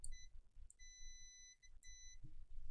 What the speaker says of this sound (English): So I put my multimeter into continuity mode so it beeps.